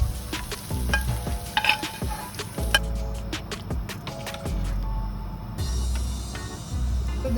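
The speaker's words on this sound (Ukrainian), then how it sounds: "ми нашу морквочку з цибулькою легесенько так підтушуємо, піджарюємо на сковорідці" Carrots and onions sizzle and fry in a frying pan for borscht, with repeated scraping and stirring clatter from a utensil, close and steady.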